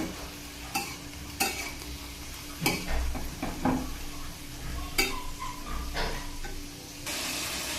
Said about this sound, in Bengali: এবার নেড়ে চেড়ে মিশিয়ে ঢাকা দিয়ে দেব।